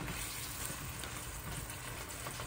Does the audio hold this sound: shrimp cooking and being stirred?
yes